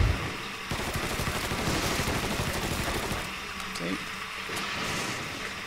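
Enemy gunfire in Mafia 3 at a funfair, rapid bursts of automatic shots rattling in a dense run, then easing into scattered, fainter reports over background noise.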